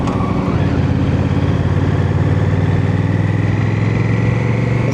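A Honda Rebel CMX 1100 motorcycle engine runs with a loud, steady, deep rumble that holds close and continuous throughout, with no voices over it.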